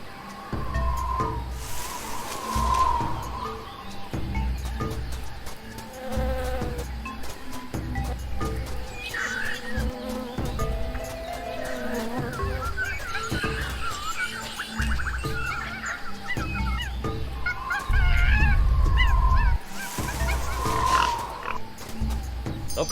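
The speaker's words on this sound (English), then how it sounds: "That jungle sure is noisy." Dense jungle ambience from the Tales of Monkey Island video game, with croaking frogs, chirping insects and calling birds layered continuously, loud and busy with no speech.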